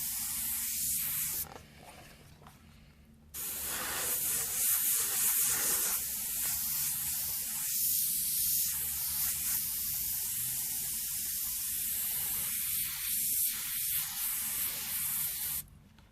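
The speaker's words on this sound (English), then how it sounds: "I'm colouring in with that base coat so it's nice and bright." An airbrush sprays base coat paint for flame graphics as a steady, close, continuous hiss that runs almost the whole time, broken by a brief quieter pause.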